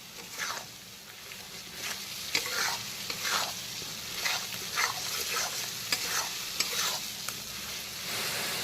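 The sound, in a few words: masala sizzling while being sautéed for katla fish curry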